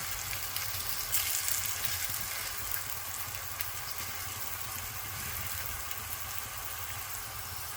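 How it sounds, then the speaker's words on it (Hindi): Aloo paratha, a potato-stuffed flatbread, fries in ghee on a pan in a village-style kitchen, giving a steady close sizzle and crackle that stays even throughout with no talking. "और अब हम उल्टा कर देते हैं और अब इस साइड पे भी घी लगा देते हैं।"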